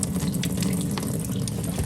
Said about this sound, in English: pour out all the water that's left